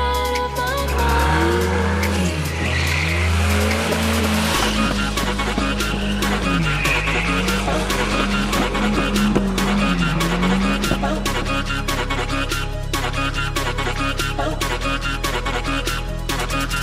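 Volvo 940 Turbo drift car sliding close to a wall, with a loud, continuous engine roar, revving pitch swings and tire squeal throughout, no talk.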